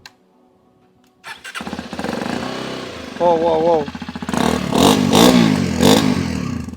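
A Hero Xpulse 210 motorcycle, a 2025 adventure bike, cranks and fires up, then its exhaust revs in several rising bursts close by, with a person's voice talking over the engine.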